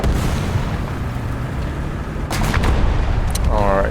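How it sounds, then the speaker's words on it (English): Artillery rumbles and booms through a War Thunder realistic tank battle, a dense low roar with sharper blasts toward the end as a voice starts speaking. "I have to wait for the artillery to end and hide."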